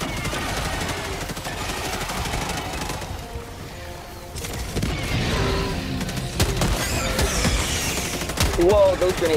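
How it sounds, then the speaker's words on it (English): Grenade explosions go off amid rapid gunfire in the Helldivers 2 video game, loud heavy bursts layered over dense shooting, with voices talking underneath. "Whoa, those grenades nearly killed me."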